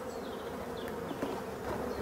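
Black honeybees buzz steadily around an open hive during an inspection, a close, continuous drone with a few individual bees flying past, no voices present.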